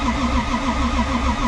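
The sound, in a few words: Toyota 3.4 stroker 2JZ engine cranking in a JZX100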